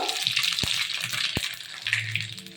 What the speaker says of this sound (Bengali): আমি এই তেলের মধ্যে কিছু গোটা মৌরি ফোড়ন দেব